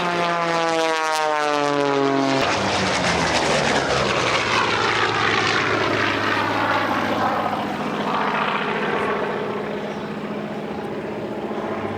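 A Bearcat propeller fighter roars past at the Oregon International Airshow in McMinnville. The engine drone is loud and sustained, and its pitch sweeps and Doppler-shifts as the plane passes, then slowly fades.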